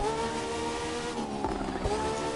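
A hypercar races in The Crew 2 video game, its steady high engine note droning loud and continuous with a couple of brief tire and braking sounds near the end.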